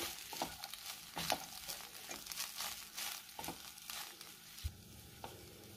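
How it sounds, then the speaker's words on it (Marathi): Leftover rice is stir-fried with Schezwan chutney in a pan, with steady crackling sizzle and frequent scraping, tossing strokes of a spatula. "आता पुन्हा व्यवस्थित मिक्स करून घेऊया।"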